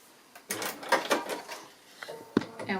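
A sewing machine stitches off a tree appliqué in a quilting project, giving short mechanical bursts and clicks close up that stop and restart, with no voices.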